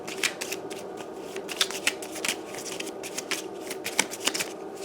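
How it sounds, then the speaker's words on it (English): A deck of exploration cards from the This War of Mine board game is shuffled, giving a run of rapid papery riffles and flicks with sharp little snaps, close up and alone for about five seconds. "And we are going to get the exploration cards and just shuffle them back together."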